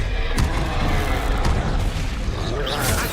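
A Bombarda blast spell bursts in Hogwarts Legacy, a dense, loud booming explosion that rumbles continuously through the clip, with heavy low-end impact and crackling debris amid ongoing spell combat.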